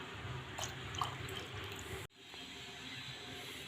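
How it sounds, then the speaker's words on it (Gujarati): Churned homemade butter being rinsed by hand in water, soft squishing and wet dripping sounds, quiet and close, with a sudden drop to calmer sloshing partway through. "તો આ રીતે આપણે બે ત્રણ પાણી માખણ ધોઈ નાખીએ"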